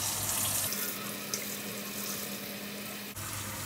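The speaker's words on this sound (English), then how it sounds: "So now what I do is wet my hair." Tap water runs steadily into a sink as hair is wet for washing dreadlocks, a continuous close splashing flow with a brief dip near the end.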